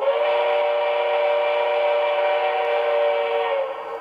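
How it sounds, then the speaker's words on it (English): A steady, loud model train whistle, the alternate whistle of a PRR S2 6-8-6 turbine model, blows continuously for several seconds, a sustained multi-tone chord that trails off slightly at the end. "which that's the alternate whistle"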